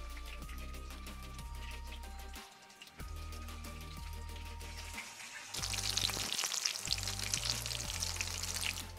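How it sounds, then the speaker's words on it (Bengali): Chicken nuggets fry in a pan with a steady, close sizzle under background music. The crackling grows louder and denser partway through. "আমি নাগেটসগুলিকে একটু উল্টে দিচ্ছি যাতে অপোজিট সাইডটাও খুব সুন্দর করে ভাজা হয়ে যায়"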